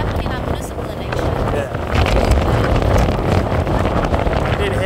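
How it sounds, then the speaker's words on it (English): Wind blowing outdoors at an open-air gathering, a loud rough rumbling buffet across the microphone that swells midway and stays steady, with no clear speech over it. "I did hear it's going to be windy out here"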